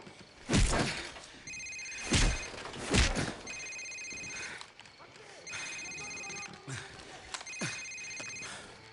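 A mobile phone rings in repeated electronic bursts in the video game Call of Duty 4: Modern Warfare (2007), interrupted by sharp heavy thuds and impacts, with voices speaking in between.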